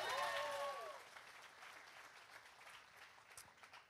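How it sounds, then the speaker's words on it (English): A church congregation gives a round of hand clapping. A voice is briefly heard at the start, then the clapping stays faint and soft as it fades into quiet, scattered claps. "Give her a big hand clap."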